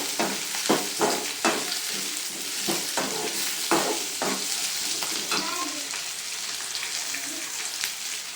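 Onions with ginger and garlic sizzle and fry in hot oil, with a steady crackle and repeated scraping stirs against the pan, close and fairly loud with no voices.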